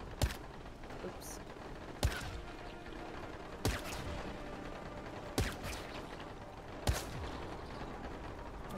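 A DLC gun in Dying Light fires single loud shots at steady intervals of roughly one and a half seconds, five sharp cracks over a low ambient game background.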